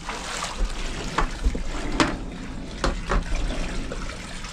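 Water is poured out for pigs on a farm, giving a continuous splashing, trickling sound with a few louder sloshes, fairly close and with no talking.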